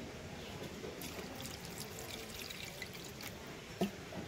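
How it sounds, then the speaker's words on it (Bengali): Water pours and trickles as stuffed leaves are washed for a salted hilsa recipe, a soft, continuous running stream close by, ending with a small splash. "তাকে এখন আমি জল দিয়ে ভালো করে ধুয়ে নেব।"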